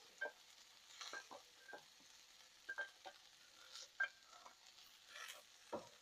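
Brussels sprouts and bacon with other vegetables cooking in a pan over low heat: a faint sizzle broken by scattered scraping and stirring clatters, quiet and close, with no talking.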